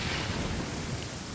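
Heavy rain pours steadily in the Genshin Impact video game world, a dense, unbroken hiss of downpour with a low rumble beneath it, loud and constant with no voices.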